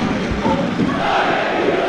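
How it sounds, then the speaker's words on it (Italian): Football supporters in a stadium at an Arezzo versus Livorno match keep up a dense, steady roar of crowd noise and chanting with no pauses, loud and continuous throughout. "Sempre un bel tifo, così dice, colorato?"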